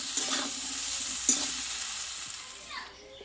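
Potatoes and raw banana sautéing in mustard oil in a pan, a quiet sizzle with a couple of brief stirring scrapes over about three seconds.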